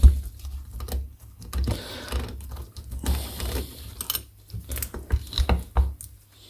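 Allen screw being worked loose from a Triumph Trident T160 starter motor during a strip-down, giving close, irregular ratcheting and metallic clicking with small tool knocks and scrapes throughout.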